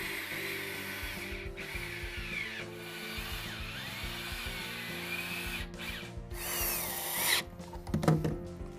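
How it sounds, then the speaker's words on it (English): A power drill bores pocket holes in southern pine boards for a picnic table, whining steadily at close range with a couple of brief stops, then rising and grinding louder near the end, with no talk. "I also drilled 2 pocket holes at each end to connect the legs."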